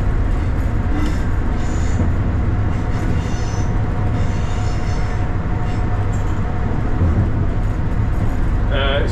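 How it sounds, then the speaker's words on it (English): A new measurement train runs on the railway past Preston North on its way toward Glasgow Central, heard from the driver's cab as a loud, steady rumble and rattle of wheels and carriage that continues throughout. "It's the new measurement train"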